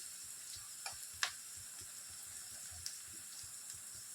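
Carrot and capsicum fry in a pan with a soft, steady sizzle, punctuated by a few faint clicks and scrapes.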